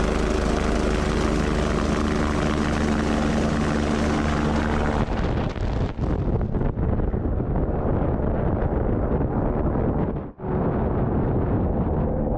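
A rescue helicopter with a winch roars close overhead, a loud, dense wash of rotor thump and engine noise with heavy wind buffeting that shifts in tone midway and dips briefly near the end.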